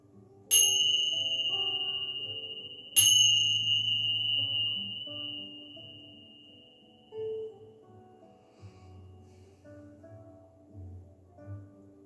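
Two clear bell strikes during a hatha yoga session ring out a few seconds apart, each with a bright onset and a long, slowly fading resonance that rings on in a quiet room.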